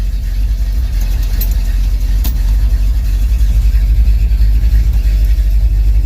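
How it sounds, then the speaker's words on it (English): A 1968 Dodge Charger R/T idles after a cold start, a steady, loud, rumbling engine sound with a faint pulsing rhythm, heard alone and close. "There's my cold start video of the Charger and the truck"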